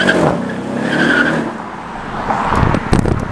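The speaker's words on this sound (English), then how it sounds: "Got some news that Arjun Kapoor is coming with his Maserati Levante." A Maserati Levante V6 luxury SUV arrives, its engine and tire noise loud and close, swelling and then settling over a few seconds.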